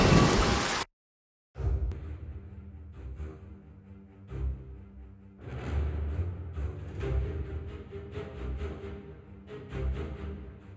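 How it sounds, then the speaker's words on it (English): Steady heavy rain hisses throughout in the video game The Pillars of the Earth, with low thunder rumbling in swells and a sharp crack near the start before a brief silence. "It rained relentlessly."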